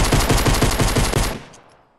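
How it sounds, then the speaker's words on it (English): Rapid automatic gunfire from a video game weapon rattles in a dense, loud burst of about a dozen shots, then stops and trails off into a short echoing tail. "I pulled out my gun and started shooting at him."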